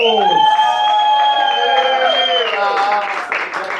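Audience at a Cologne ladies' night stage show bursting into loud applause and cheering as a performer returns to the stage, with whoops and a strong tonal voice or instrument running over the crowd noise throughout.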